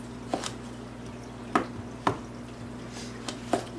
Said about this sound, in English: I'm just going to chop it up here.